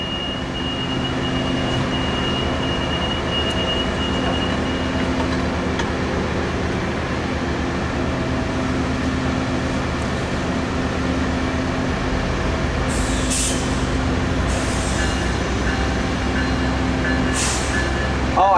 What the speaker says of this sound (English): this is the last southbound OC line train of the day